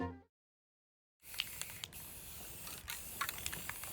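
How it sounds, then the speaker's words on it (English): After a moment of silence, a steady aerosol spray hiss starts as paint is sprayed on a lawn, and keeps going, broken by a few sharp clicks and taps. "Spray painting the lawns of strangers is unconventional work"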